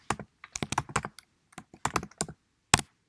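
Keys clatter on a computer keyboard during an Elixir programming lesson, in irregular close bursts of rapid keystrokes separated by short pauses, with no talking.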